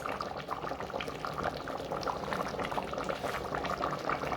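A pot of peas and potato stew being stirred, with a steady bubbling, liquid churn and soft sloshing throughout, close and moderately loud with no talking.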